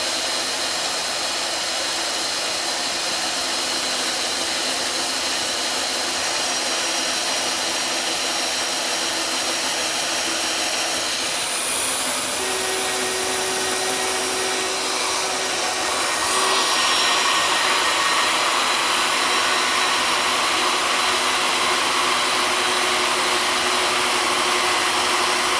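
Chinese 2-in-1 power drill boring a hole, a continuous loud whirring motor drone with a steady tone, shifting pitch midway as the bit works through, with no talk over it.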